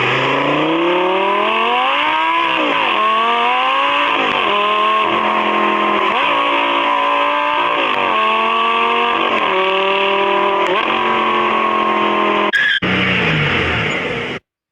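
Lamborghini Gallardo engine revved hard and repeatedly, loud and close: a series of rising blips that climb and fall back in steady succession, ending with an abrupt cut to silence.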